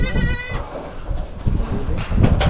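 A goat bleats loudly nearby at the start, a wavering cry, then rustling, thumps and farmyard movement follow.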